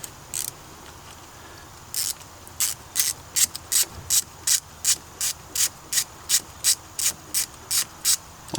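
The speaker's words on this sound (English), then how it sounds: "get the 10mm socket and a ratchet" Ratchet wrench with a 10mm socket loosening an ignition coil bolt on a Nissan Versa SL valve cover, a steady run of about a dozen crisp, evenly spaced clicks, close and clear with no talking.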